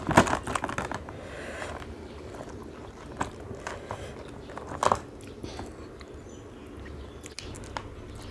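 Someone bites and chews the shell of a raw blue crab, giving close, wet crunches and cracks in scattered bursts, loudest at the start and again near the middle, over faint background noise.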